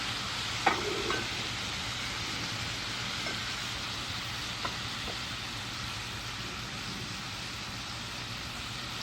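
Beef and ginger stir fry sizzles in a pan with a steady, close hiss and a few sharp clicks of a utensil early on, continuing evenly throughout without speech.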